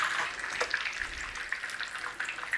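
Coconut-crusted chicken pieces frying in hot oil, a steady, close crackling sizzle with bursts of popping spatter running the whole time and no voices.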